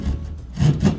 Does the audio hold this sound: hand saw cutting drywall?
yes